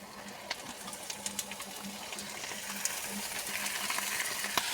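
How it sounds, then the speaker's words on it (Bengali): Meat sizzles with browned onions in a pan, a dense, steady frying hiss dotted with small pops and light scraping, close up and without any voice. "মাংসটারে অনেক সময় ভাজা করলাম"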